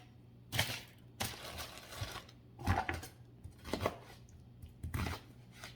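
Knife cubing red onion on a cutting board: a handful of sharp, separate chops land at an uneven pace, close and fairly quiet, with no talking.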